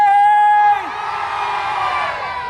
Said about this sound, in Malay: Siapa rasa Udeng patut menang, jerit hey.